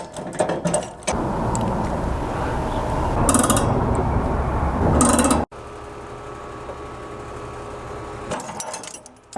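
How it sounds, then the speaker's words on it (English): A jaw puller from a Harbor Freight kit works a bearing off a swamp cooler shaft, with close metallic ratcheting and creaking strain, a steady grinding stretch, then an abrupt break and quieter mechanical hum. "I'm going to use this puller. These are jaw pullers."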